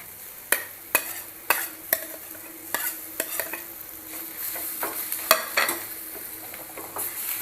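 Eggplant and onions frying in a pan over lowered heat, with a steady sizzle broken by sharp scrapes and clinks as a utensil stirs the pan, some of them close and loud.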